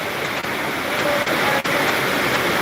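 Heavy rain pours down in a dense, steady hiss, close and continuous, with a few brief dips in the roar.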